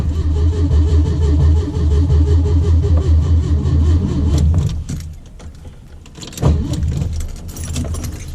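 A home-built VW Beetle engine with warm start issues runs steadily and close, then cuts out abruptly, followed by a short, rough restart attempt and uneven running. No one speaks.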